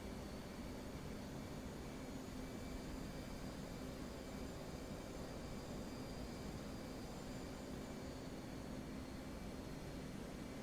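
Steady, broadband drone of an aircraft engine in flight in the DCS flight simulator, holding an even, moderate level with a faint whine above it, continuous throughout with no voices.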